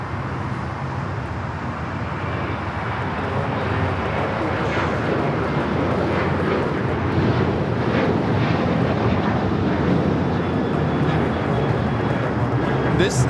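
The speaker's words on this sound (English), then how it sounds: "1374 taking off to Loretto on the 737-900ER." Alaska Airlines Boeing 737-900ER taking off from Los Angeles airport, a steady broadband engine roar that holds loud throughout, with some wind and a voice talking faintly beneath it.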